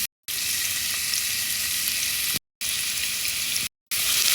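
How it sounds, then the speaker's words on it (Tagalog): Onion sautéing in a pan for chicken in coconut milk gives a loud, steady hiss of frying, broken by two brief silent cuts, with no voices. "Ayan, magisa tayo ng sibuyas."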